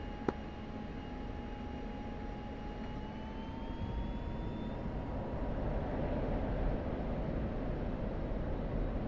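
Two F-16 fighter jets run their engines up while holding short of the runway, a steady loud broadband roar with a high whine slowly rising in pitch, swelling gradually throughout.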